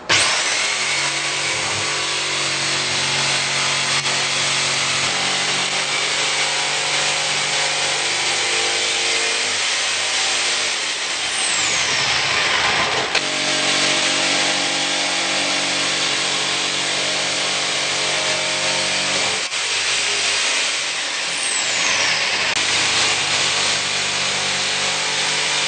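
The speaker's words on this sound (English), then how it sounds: "then we'll just jigsaw along the line all the way around the window and pull this piece right" A jigsaw cuts a window opening in an onyx shower panel: a long, loud, continuous rasping saw buzz with brief dips in tone as the cut goes around the line.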